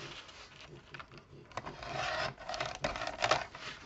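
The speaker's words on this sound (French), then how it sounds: "Donc, ça me coupe le papier épais, par contre." A cheap paper trimmer cuts through thick paper with scraping, rasping strokes and a few sharp clicks, close and fairly quiet, growing busier toward the end.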